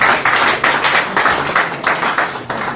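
An audience at a political debate claps steadily in rhythmic bursts, close and fairly loud, without voices.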